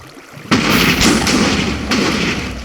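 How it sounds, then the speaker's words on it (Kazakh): Explosion in the Minecraft video game: a sudden loud boom bursts in and leaves a long rumbling roar, with a second blast hitting partway through, close and with no voices over it. "Мощный жарылды"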